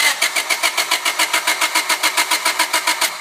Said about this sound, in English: we'll go ahead and crank it over.